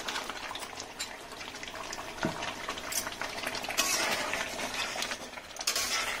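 Fried eggs go into a simmering curry gravy for an Afghani egg curry: a steady low bubbling and light stirring with a few soft clinks and splashes, fairly close and moderate in level, with no talk.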